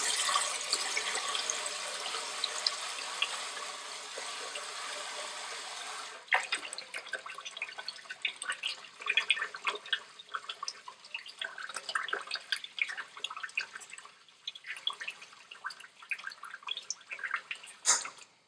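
Starchy, murky rinse water from Persian rice being poured off, a steady broad splash that shifts after a few seconds into irregular dripping and trickling, close up with no talk.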